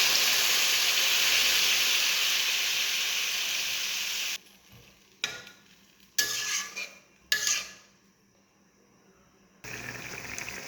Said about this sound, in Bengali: আমার তরকারিটা ফুটে গেছে